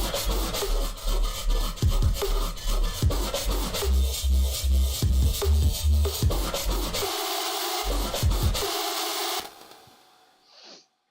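Heavy electronic bass pattern from a Serum synth, part of a remix, with fast LFO wobbles over pounding low beats; it plays loud and dense for about nine seconds, then cuts off abruptly, leaving a brief faint tail.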